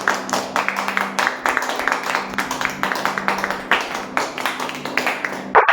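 A church congregation claps to welcome the pastor during a live Friday service, a dense run of rhythmic hand claps at steady tempo, fairly close, with a sustained tone underneath.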